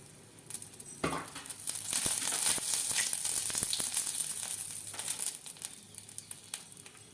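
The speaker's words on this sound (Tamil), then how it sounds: "பட்டை, சோம்பு, ஏலக்காய் எல்லாத்தையும் போட்டு லேசாக வதங்கட்டும்." Cinnamon, fennel and cardamom sautéing in hot oil for green peas masala, a steady close sizzle with crackling pops and occasional stirring clinks, no talk.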